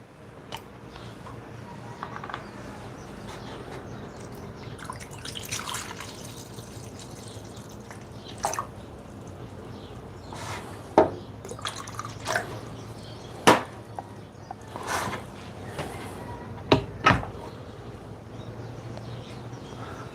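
A blended plant-based mixture is poured from a blender jar into a container during home batch meal prep. It makes a soft, continuous liquid trickle with a few sharper clinks and splashes scattered throughout, fairly quiet and close by.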